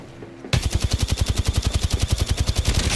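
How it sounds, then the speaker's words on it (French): Rapid automatic gunfire from a video game, Kraber and Volt weapons, a steady burst of loud, evenly spaced shots starting abruptly after a brief quiet moment and continuing without pause. "On me tire dessus."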